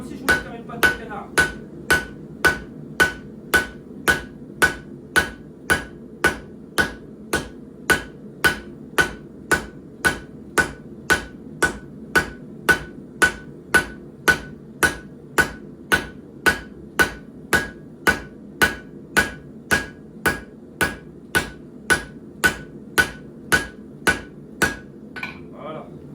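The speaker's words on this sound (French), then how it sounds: "Et je viens taper en travers, comme si je voulais faire une patte de canard." Hand hammer striking hot steel crosswise with the long peen while forging a knife blade, a long steady run of loud, ringing metallic blows in an even rhythm, close up and without talk.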